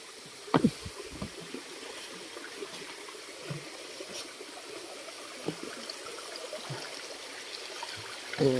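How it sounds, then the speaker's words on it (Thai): Water flows and trickles in a stream at Nang Khoi waterfall in Udon Thani, a soft steady rushing with a few splashes and knocks scattered through it. "น้ำตกนางคอยนะครับ"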